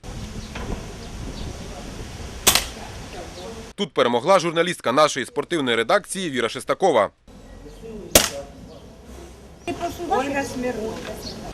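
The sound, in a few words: shots at a journalists' small-bore shooting competition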